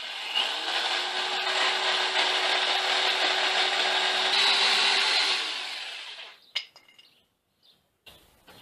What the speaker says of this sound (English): cut and shape these levers using a jigsaw